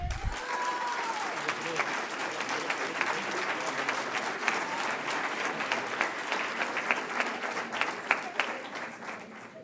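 An audience at an entrepreneurship award ceremony applauds a prize winner, and a steady crowd clapping runs throughout with a few sharper claps. A brief tone sounds at the very start.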